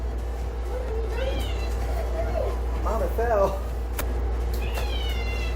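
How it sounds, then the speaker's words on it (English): A cat meows several times in short rising and falling calls, fairly close, over a steady low hum, with a person speaking briefly between the calls. "How to make a silent cat meow."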